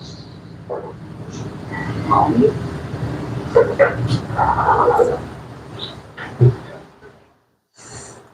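People talk over the steady low rumble and rattle of a moving train carriage, with the noise dropping briefly near the end.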